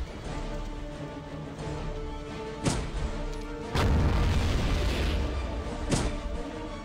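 Weapon fire in the WWII shooter Blade of Agony: a few heavy, booming shots spaced several seconds apart, loud against a steady droning game background with no one talking.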